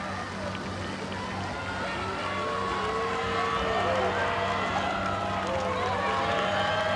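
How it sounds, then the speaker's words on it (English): Crowd cheering and shouting from the riverside enclosures at the Henley Royal Regatta as rowing crews race past, a steady broad roar throughout with voices rising and swelling toward the end, over a low constant hum. "You can hear the cheers from the crowd as they're coming past the enclosures"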